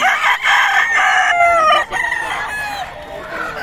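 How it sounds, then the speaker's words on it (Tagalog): Roosters crow loudly and repeatedly over clucking hens at a live market in Bocaue, the calls overlapping and close, with faint background voices. "Talagang ready to go na mga manok ni Boss Russell mga idol."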